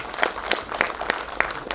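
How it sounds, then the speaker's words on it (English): Slow, sparse clapping from a small audience at a trauma course and mass casualty workshop, recognising the incident commander, a few distinct claps under a hum of the room. "So another big round of applause to the incident commander."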